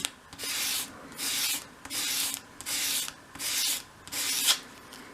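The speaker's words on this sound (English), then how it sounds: "So just hold it against your sandpaper, 45-degree angle, and sweep it towards you, keeping it at that angle." A small wooden piece rubbed across sandpaper to shape a 45-degree bevel, six even rasping strokes in a steady rhythm with brief pauses between them, close and fairly loud.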